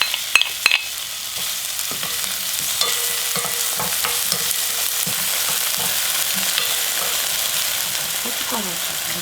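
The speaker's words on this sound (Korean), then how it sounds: "식용유를 좀 두르고 파기름을 먼저 내" Chopped scallions fry in cooking oil in a pot to make scallion oil for ramyeon, giving a bright constant sizzle with close scraping and tapping of a stirring utensil throughout.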